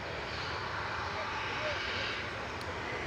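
Aircraft on the runway at Manchester Airport, a steady broadband engine roar that stays distant and even throughout, with no sharp events.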